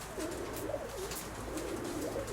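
Pet pigeons kept by a Ukrainian fancier coo softly in a low, wavering, repeated rumble against steady background hiss, with no one speaking.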